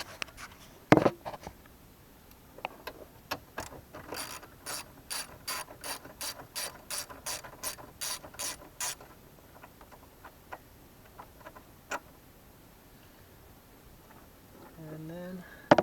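Quiet, close ratchet clicks in a quick even run of about a dozen strokes as a 10 mm bolt on a Lexus LS 400 air filter box is loosened, with scattered taps before and after and a brief voice near the end.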